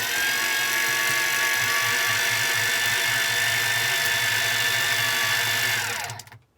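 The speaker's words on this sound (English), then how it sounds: "It'll reel in all the way to the swivel." A Miya Epoch X8 GT electric fishing reel winds in with a loud, close, continuous motorised whine and faint ratcheting gear clicks that wind down and stop at the end.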